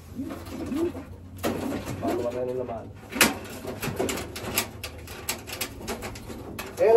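Racing pigeons coo softly in a crate, repeated low burbling calls up close alongside wing flutters and rattling, while a person talks over them.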